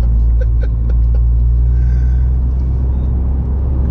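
A Toyota GR Yaris drives a half-wet rental closed course, its engine giving a loud, steady low rumble that holds constant and close for the whole stretch.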